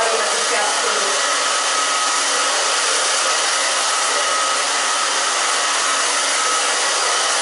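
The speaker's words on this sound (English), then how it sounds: "I'm just going to round brush it a little bit in the back to give it some body while we're drying it." A hair dryer blows steadily on a short asymmetrical haircut while it is shaped with a round brush, making a loud, even whooshing whir that runs unbroken and close throughout.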